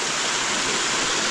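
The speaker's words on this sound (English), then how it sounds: "We got the water coming down the little river." Water flows down a little river at a micro hydro intake built from piled mud and rocks, making a steady, loud, broad rushing wash with no pauses.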